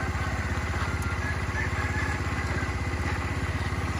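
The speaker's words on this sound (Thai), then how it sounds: "ฟิลลิ่งการขับขี่นะครับของเจ้าสกูปี้ไอคันนี้มันจะโดนใจผมหรือไม่ไปดูกัน" A 2012 Honda Scoopy i scooter runs steadily while being ridden, its small engine giving a continuous even buzz with a faint rattle, moderately close and without speech.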